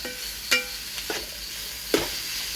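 Sliced onions with salt fry in a pan for a chicken biryani masala, giving a soft, steady sizzle broken by a few sharp stirring scrapes and clinks.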